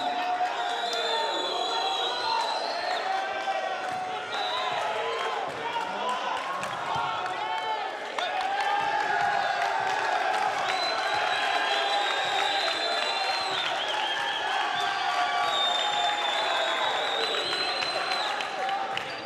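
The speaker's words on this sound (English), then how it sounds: "Crowd is letting us have it." A crowd at a men's college volleyball tournament match between St. Thomas and Warner roars with sustained cheering, whoops and applause, loud and continuous, while a commentator talks over the noise and ball impacts thump through it.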